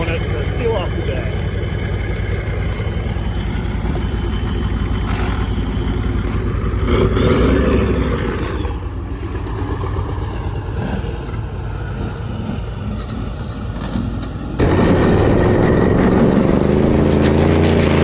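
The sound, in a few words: stub truck doing a reverse donut in sand dunes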